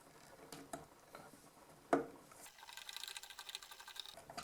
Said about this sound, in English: Then you take a Phillips screwdriver and tighten it down.